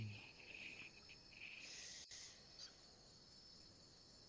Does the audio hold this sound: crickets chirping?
yes